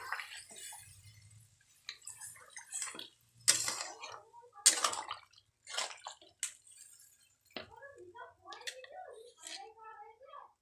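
Vegetables for Bengali sukto are stirred in a pan and a generous splash of water is added. Scraping, clinking and splashing sounds come in short bursts, with a person talking over them.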